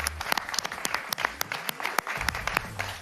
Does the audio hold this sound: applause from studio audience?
yes